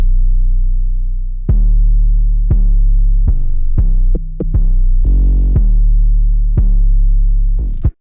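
A trap beat's 808 bass pattern with log drums plays alone: deep sustained booms struck in an uneven bouncing rhythm, each hit decaying, with a brief bright burst midway and no voices.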